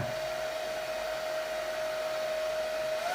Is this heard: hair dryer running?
yes